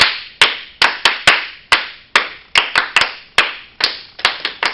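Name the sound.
group clapping five times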